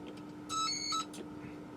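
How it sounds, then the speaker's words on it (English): A DSC alarm warble from an Icom M710 MF/HF marine SSB radio, a brief two-tone electronic alternation lasting about half a second, clear and close over a steady low hum, with no speech. "and then an alarm warble being sent."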